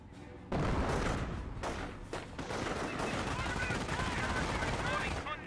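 Dense, continuous gunfire from a rifle squad and a sniper in the Company of Heroes strategy game, with rapid overlapping bursts and single cracks under a steady din of battle.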